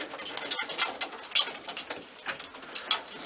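Several roller pigeons, including a small ash red check roller, shuffle and stir in a loft, with soft scattered bird sounds and light fluttering taps at close range, no talk.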